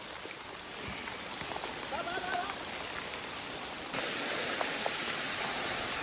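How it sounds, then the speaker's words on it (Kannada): Heavy rain falls outdoors during a crab hunt by a lake near Hassan, a dense, steady hiss of drops that grows slightly louder partway through. No one speaks. "ದೊಡ್ಡ ದೊಡ್ಡನೆ ಮಳೆ ಬದೈತೆ"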